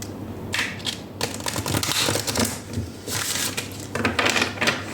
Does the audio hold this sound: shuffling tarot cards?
yes